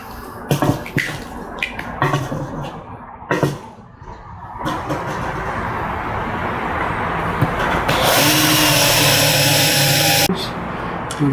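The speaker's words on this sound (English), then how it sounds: "Just gonna drill a hole there." A power drill bores a hole through a homemade sand crab rake: after some handling knocks, a rising motor whine builds and runs steadily for several seconds, loudest near the end, then stops.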